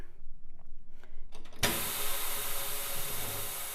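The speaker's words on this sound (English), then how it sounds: "You see those clamps clamping the rim?" A Katool tire changer machine clamps onto a 21-inch Tesla wheel rim: quiet mechanical ticking, then a sudden loud, steady pneumatic hiss and whir that runs continuously to the end.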